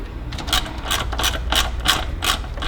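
A ratchet tightens a hose clamp on a Ferrari 458 engine, giving a close, steady series of sharp clicks, about three per second, with no voices.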